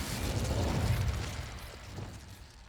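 A fire spell, Incendio, cast in the Hogwarts Legacy video game: a loud whooshing burst of flame that swells, then slowly fades over a couple of seconds, heard on its own.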